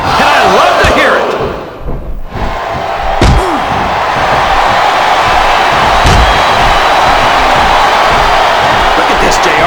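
Capacity wrestling arena crowd in the video game WWE Smackdown vs Raw 2007, a loud continuous roar of cheering with a brief dip and a few sharp slams cutting through.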